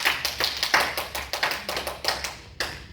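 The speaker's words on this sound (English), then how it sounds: "Clap hands for her." A classroom group claps hands together, a quick run of sharp, close slaps in a steady patter for about three seconds with no talking.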